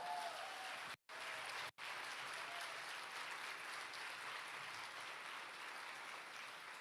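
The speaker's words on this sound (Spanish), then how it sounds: "Dale un aplauso fuerte al Señor." Steady, strong applause fills a church as the congregation claps for the Lord, a dense even roar of many hands that briefly cuts out twice near the start before carrying on unbroken.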